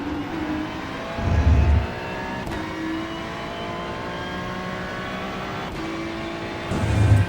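Ferrari 296 GT3 race car in the iRacing sim at Sebring, engine note dropping through downshifts while braking into a corner, then steady revs as the throttle comes back on, loud and continuous with no voices.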